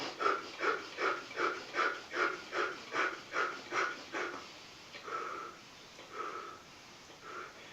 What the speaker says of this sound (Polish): bierzemy szybkie wdechy nosem i szybko wypuszczamy powietrze ustami